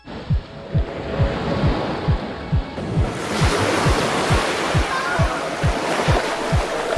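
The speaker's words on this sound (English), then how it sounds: "And the waves here." Sea waves wash ashore at Phra Nang Cave in Krabi, Thailand, a broad steady roar of surf that swells louder midway, with wind buffeting the microphone and a regular low thumping throughout.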